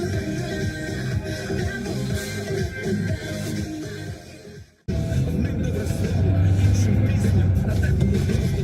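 A car on a drive, heard from inside as a steady, fairly loud engine and road rumble that dips briefly partway through before carrying on.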